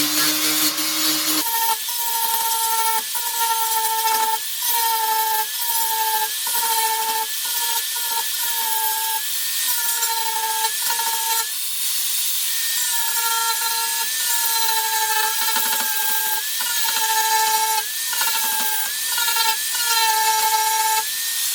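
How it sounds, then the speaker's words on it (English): An angle grinder takes rust off the roof of a classic Fiat 500, a loud, steady, high-pitched whine that dips and rises as the disc bites into the metal, going on continuously for about twenty seconds. "I'll just give it a grind off now"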